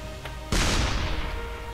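A single loud blast from the bounce explode weapon in Shellshock Live, a sudden boom with a decaying rumbling tail over faint background game music.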